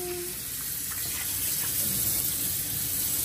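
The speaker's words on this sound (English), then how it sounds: "Now you're learning how to actually clean your hands in the kitchen, guys." Kitchen sink tap running while hands are washed, a steady close hiss of flowing water filling the whole moment, no talk.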